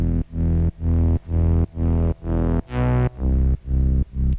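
A thick, buzzing Reese bass from a Diva synth with its filter frequency automated upward, playing a series of short, detuned sustained notes in a steady rhythm, loud and alone.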